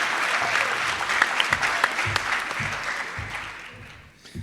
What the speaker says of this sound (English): Please join me in a round of applause for our partners and teachers everywhere.